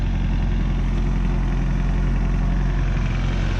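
A 1997 Toyota Tacoma's 2RZ-FE four-cylinder engine runs right after an oil pump rebuild, holding a steady, close-up idle hum with an even low rumble and no voices.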